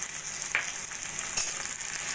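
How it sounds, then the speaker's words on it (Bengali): Vegetables frying with onion in a pan for a Bengali fish curry, giving a steady, close hiss of sizzling oil with a couple of brief sharper crackles and no talk. "সবজিগুলো ভাজা হতে হতে দিয়ে দেবো আমি পরিমাণ মতো নুন হলুদ"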